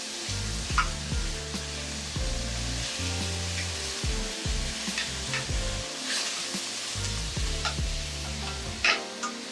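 Protein for pad thai frying fast in a hot pan, a strong steady sizzle with bursts of crackling and intermittent scraping of a spatula moving the pieces around, close and continuous.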